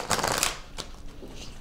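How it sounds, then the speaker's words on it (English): A deck of tarot cards is given a quick shuffle: a dense burst of riffling and flicking, then a single sharp snap and a few softer card sounds, close and without speech. "I'll do a quick shuffle."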